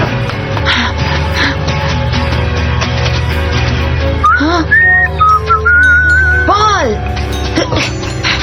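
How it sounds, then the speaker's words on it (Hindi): A whistle blown in a Hindi-dubbed animated cartoon sounds as a few rising and falling tonal chirps over busy music and background sound, with voices talking nearby. "मैंने आपकी सीटी सुनी।"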